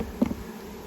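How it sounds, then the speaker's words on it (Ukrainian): A short burst of honeybee buzzing around honey frames rises briefly over steady background hiss, then fades, close by and fairly faint. "Наші бджоли вже осушують рамки."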